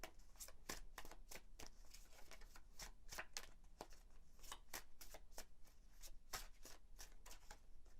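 A deck of oracle cards is shuffled close up, giving a rapid, continuous run of crisp riffling snaps, quiet and without talk.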